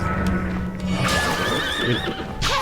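A horse in the video game Bloodstained whinnies loudly with a shaky, rising-and-falling neigh, followed by a short noisy burst at the end.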